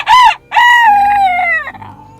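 A rooster crows loudly and close, a short first note then a long drawn-out call that trails off.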